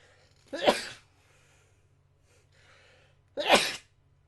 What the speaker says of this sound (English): Hang on, I have to sneeze.